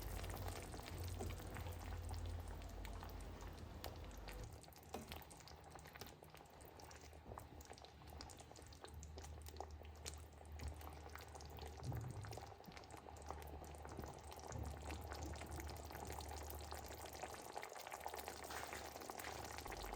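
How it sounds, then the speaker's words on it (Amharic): A pot of potato and carrot stew, salted, boils steadily on the stove with a constant bubbling and simmering texture throughout, moderately close and with no talking. "ከዛ የተወሰነ እንዲተከተክልን ከርነን እናበስለዋለን"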